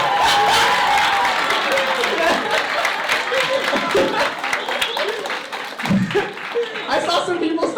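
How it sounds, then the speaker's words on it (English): Audience clapping at a student debate cross-examination session, a scattered mix of hand claps with chatter and chuckles over it, thinning out toward the end. "I saw some people stop clapping."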